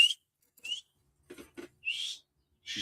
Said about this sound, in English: The cats recognize that whistle, and they come running.